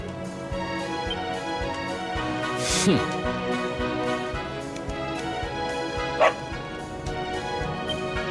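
A dog barking in the video game Dragon Quest XI, with a couple of short yelping barks rising over a busy game backdrop of steady rhythmic music.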